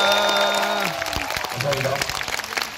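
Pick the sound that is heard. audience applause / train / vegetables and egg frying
audience applause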